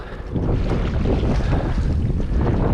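A fishing boat is on the water in strong wind. Loud, continuous wind buffets the microphone with low rumbling gusts, and no voices are heard.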